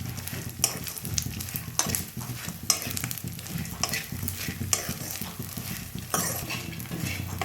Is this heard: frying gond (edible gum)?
yes